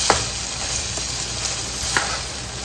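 Chili and homemade beef meatballs stir-fry in a pan with a steady, close sizzle, broken by occasional scraping stirs.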